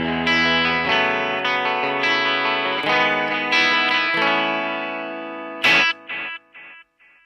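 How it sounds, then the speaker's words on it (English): Electric guitar runs through an analog tap-tempo delay with modulation, sounding as distorted sustained chords and phrases. After the playing stops, warbling echo repeats fade out in timed steps. "this is an analog delay with a little bit of modulation on it"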